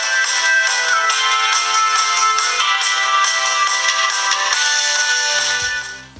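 A budget smartphone's loudspeaker plays a bright, busy melodic ringtone continuously, loud and close with no talk, cutting off at the end.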